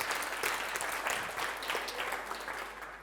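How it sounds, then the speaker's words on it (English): Applause from a workshop audience at a workplace design conference, a steady, dense patter of many hands clapping at moderate distance, sustained evenly throughout with no voices breaking through. "Round of applause for these folks here."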